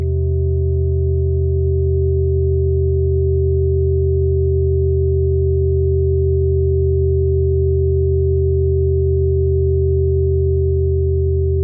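Synthesizer drone holding a steady, loud tone with stacked harmonics, shimmering with rapid, even modulation for nearly twelve seconds, constant in level and with no voice over it.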